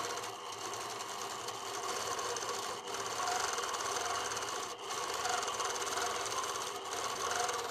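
A quilting machine stitches freehand background fill designs in a fast, steady mechanical whir. The run is close and continuous, with brief dips as the needle pauses, and there is no speech.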